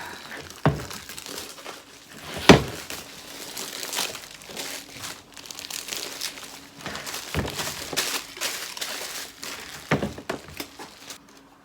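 A box holding plastic-wrapped packaging for an Einhell TC-PN-50 stapler-nailer is opened, with plastic crinkling and rustling close by and several sharp crackles and thumps scattered across the whole stretch.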